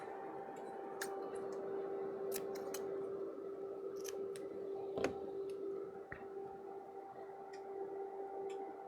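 Scissors snip and click in a few sharp, separate cuts over a steady electronic hum on a bench where a Keysight 3458A multimeter is being serviced, close and fairly quiet.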